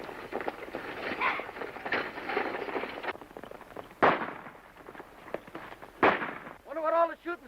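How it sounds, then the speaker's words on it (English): Gunshots in a 1935 Monogram western about a stagecoach holdup, sharp cracks ringing out around 4 and 6 seconds over a busy crackling background, with a voice speaking near the end. "Wonder what all the shooting's about."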